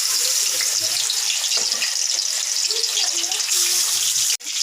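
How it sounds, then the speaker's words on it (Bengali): Bata fish frying in oil in a pan, a loud, close, continuous sizzle and spitting crackle that runs steadily throughout, with a brief sharp knock near the end. "বাটা মাছগুলো দিয়ে দিচ্ছি।"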